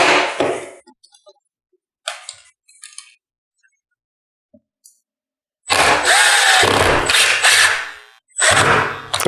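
A power drill drives screws into an MDF table, with a few brief clicks and taps first, then two long loud whirring bursts near the end.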